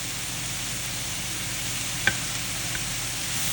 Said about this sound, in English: You need more surface, so it's sauteed instead of boiled.